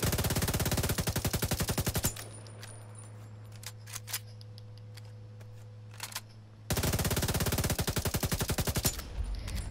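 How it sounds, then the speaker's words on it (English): Shield Splinter F2000 rifle in The Division 2, firing fast full-auto bursts at the start and again near the end, with a quieter stretch of scattered clicks and a steady hum between. "This is the gun we got, the Shield Splinter F2000."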